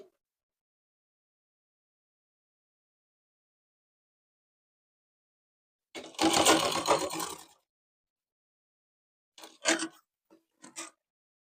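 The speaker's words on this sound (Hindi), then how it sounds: "इसे पलट करके सीधा करेंगे और उसके ऊपर सिलाई लगाएंगे।" A sewing machine stitches a blouse sleeve in one short run of close mechanical whirring, followed by two brief, fainter bursts after a long silence.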